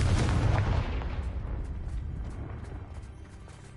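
A Confringo blasting spell bursts in Hogwarts Legacy, a heavy booming impact at the start that rumbles and fades away over a few seconds, with no talk over it.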